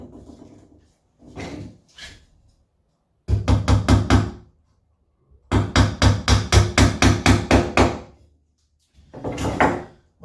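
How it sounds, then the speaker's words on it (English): A hammer knocks wooden beehive frame parts into place: two bursts of rapid, sharp, evenly spaced taps, one short and one longer, close and loud, with brief quieter sounds before and after. "alternatively, you can always use the hammer"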